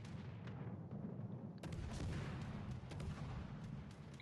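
Naval gunfire in World of Warships: Legends, a steady rumbling barrage of big guns with a sharp fresh salvo partway through, loud and dense throughout without talk.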